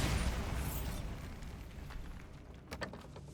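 A Bombarda blasting spell goes off in Hogwarts Legacy, a loud booming blast at the start that rolls off into a fading rumble, with a sharp crack near the end.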